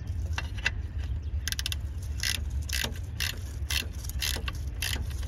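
Ratchet tightening a bolt on an oil filter housing of a 2007 Cadillac DTS, heard as a series of short close clicking bursts of varying length over a steady low background hum.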